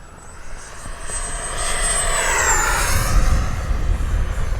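An FMS 70mm Yak RC jet screams through a high-speed dive, its loud whine sweeping and swelling as it passes, with wind rumble building beneath and no voices.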